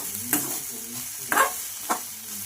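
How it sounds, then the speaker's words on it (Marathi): Bhel of puffed rice, roasted in oil with peanuts, is stirred in a pan, making three short, soft scraping rustles spaced apart, close and without talk. "तर जशी भेळ आपण हलवते"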